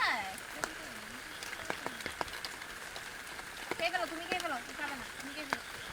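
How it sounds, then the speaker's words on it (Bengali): Steady rain patters on surfaces on a village night, a soft, even wash of drops beneath a nearby voice talking throughout. "বৃষ্টি পড়তেছে"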